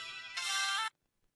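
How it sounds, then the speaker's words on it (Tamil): A phone rings with its ringtone for an incoming call in a Tamil short film, heard as a brief bright electronic tone that swells louder and then cuts off abruptly into silence. "உங்கள் சிஸ்டர் தான் ஃபோன் பண்ணுறா"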